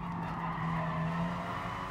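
Tires squealing under hard braking from a race car in the racing game GT Sport, a sustained skid heard up close over steady engine noise, fairly quiet overall.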